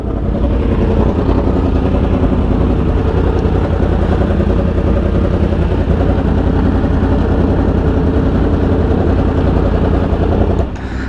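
A 2017 Yamaha R1 sportbike engine running on a night street in Miami, a loud steady close-up drone that holds for about ten seconds before cutting off abruptly at the end.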